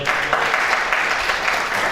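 An audience at a folklore house's March 8 celebration in Barda claps steadily and fairly loudly, a continuous wash of applause throughout.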